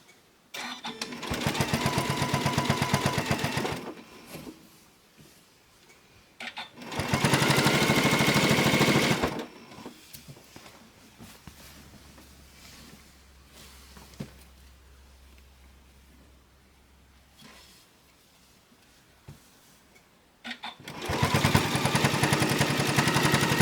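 A sewing machine top-stitches a three-layer flannel rag quilt, running in three loud whirring bursts separated by quieter pauses.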